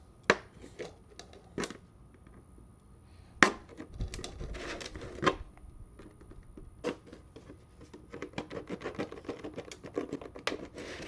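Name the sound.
cutting off a lid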